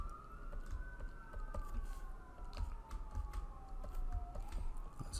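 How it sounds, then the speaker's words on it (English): Fire department sirens wail outside, a wavering tone rising and falling as they pass at a distance, with light tapping and clicking nearby. "the fire department racing through with their sirens"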